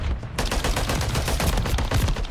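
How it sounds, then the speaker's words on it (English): Rapid automatic gunfire from Call of Duty: Modern Warfare 3 multiplayer, loud and sustained, with dense overlapping shots over a constant booming din. "I was just shooting."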